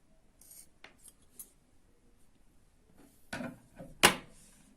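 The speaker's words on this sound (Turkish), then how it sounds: "şimdi buradan makasla keselim tam ucundan" Scissors snip through the tip of a handmade toy chick craft piece: faint handling rustles first, then two sharp, close cutting clicks near the end.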